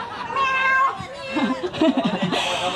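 A person imitates a cat, giving drawn-out meowing calls with wavering pitch, followed by laughter and chatter from others nearby.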